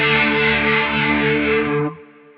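Guitar played through a Quad Cortex rotary speaker modulation effect set to fast, a sustained distorted chord with quick warbling swirl that rings for about two seconds, then cuts off into a short fading tail.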